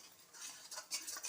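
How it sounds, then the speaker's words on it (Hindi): Masala spices cook in a kadhai, giving a faint, soft hiss and sizzle with light scraping stir strokes at close range and no voices. "यहाँ पर मेरा मसाला तैयार हो रहा है कढ़ाई में"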